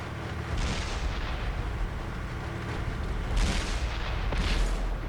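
Heavy tank cannon fire from World of Tanks on Xbox console, booming blasts with broadband bursts around three and a half and four and a half seconds over a continuous rumbling battle background.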